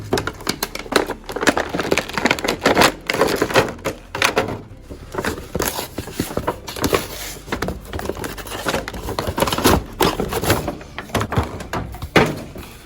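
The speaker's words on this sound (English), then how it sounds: "I'm going to rip it as much as I possibly can because I know that you guys like that." Cardboard and plastic action figure packaging for a McFarlane DC Multiverse Nightwing figure torn apart after the trading card is removed, with repeated loud ripping, tearing and crackling bursts over about thirteen seconds, with no talk.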